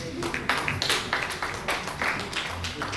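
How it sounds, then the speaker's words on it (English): An audience claps in a loose, continuous patter of many hands, fairly near and moderately loud, with no talk over it. "We continue clapping until those pins drop down."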